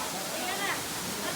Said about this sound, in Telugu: చూడండి ఎలా పోతుంది వాటర్ ఫ్లో